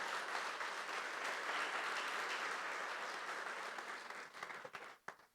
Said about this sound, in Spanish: ¿Cuántos le dan el aplauso al Señor?